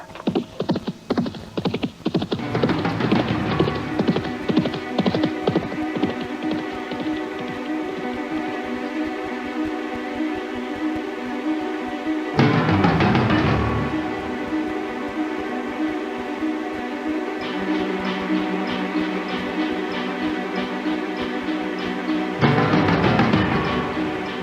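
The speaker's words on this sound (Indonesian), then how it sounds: "Kuda itu sudah pergi membawa Ayub bin Jahal." Hooves clip-clop in an irregular patter as a horse leaves in a radio drama, then give way to a steady sustained musical drone that swells twice.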